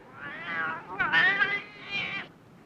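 A cat meows several times outdoors in the morning, with drawn-out, wavering calls at close range, one after another and no talk over them.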